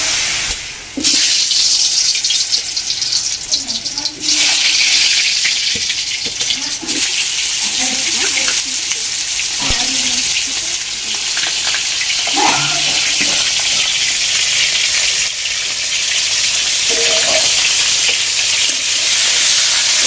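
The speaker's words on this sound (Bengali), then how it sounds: "এবার আমি বিরিয়ানির যে আলুটা আছে সেই আলুটাকে প্রথমে ভেজে নেব" Salted, turmeric-coated potatoes for mutton biryani fry in hot oil in a pan on a clay stove. A loud, dense sizzling hiss carries throughout, with occasional clinks and stirring noises.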